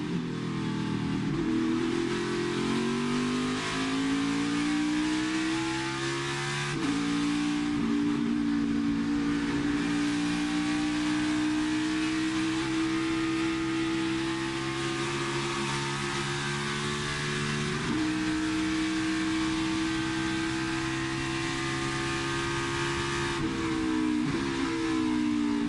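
NASCAR Xfinity race cars attacking the esses and the run to the bus stop at Watkins Glen, sustained loud engine howl with pitch shifts as drivers upshift and downshift, continuous and close for the whole stretch.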